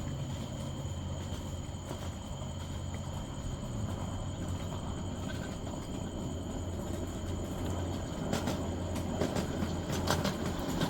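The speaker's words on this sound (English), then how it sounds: "we wait for the approaching train to clear the block we need" A live steam miniature train approaching on a ridge line during night running, a steady low rumble and mechanical hum growing slightly louder, with faint rail clicks and a few sharp metallic accents toward the end.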